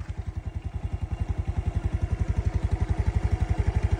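A Yamaha Ego S motorcycle engine runs steadily close by, its low, fast, even chugging pulses carrying on throughout with no voices.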